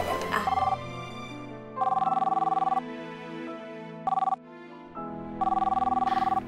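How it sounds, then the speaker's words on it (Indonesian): A telephone rings in repeated electronic trill bursts with short gaps, sitting over soft background music in an Indonesian TV drama scene. "aku angkat telepon dulu, ya"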